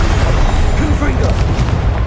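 Confringo explosive spell blast in Hogwarts Legacy, a loud booming burst with rumbling low end over a short stretch, and a voice speaking faintly underneath.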